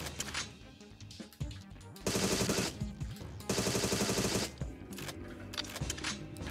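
Rapid automatic gunfire from a shooter video game such as Agent 64 or Ripout, loud dense bursts of fire broken by quieter gaps, with no voice over it.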